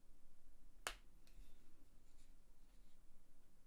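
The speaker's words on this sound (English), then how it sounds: "Quite a nice little mechanism. It's a click. Should be able to hear that." One sharp, close click from the mechanism of a Microsoft Surface Arc Mouse, followed by a couple of fainter ticks against a quiet background.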